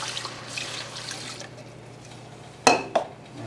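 Three cups of water go onto two cups of rice for a camp-style Cajun jambalaya: a soft, steady watery wash, then two sharp clinks of metal or glass near the end.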